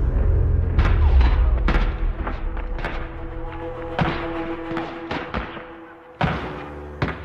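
Gunfire in a documentary battle reenactment of the 1916 Irish Rebellion at Mount Street, with loud booming shots and thuds spread unevenly over several seconds, some in quick pairs, against a rumbling low background.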